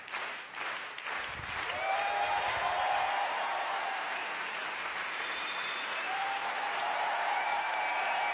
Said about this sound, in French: merci d'applaudir Fabrice Eboué